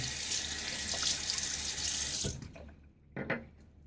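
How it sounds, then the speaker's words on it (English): A bathroom tap runs steadily into a sink for a partial rinse while wet shaving with a safety razor, then cuts off, followed by a few brief splashes and handling sounds close by. "a little partial rinse"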